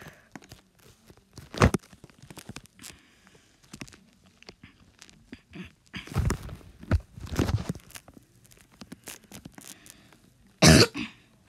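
A person trapped in a stuck elevator coughs in a few separate bursts, close and fairly loud against quiet surroundings, with small shuffling and tapping noises between the coughs.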